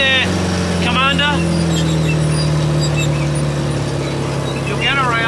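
A Saracen armoured vehicle engine roars flat out in third gear, a loud steady drone throughout while voices talk over it.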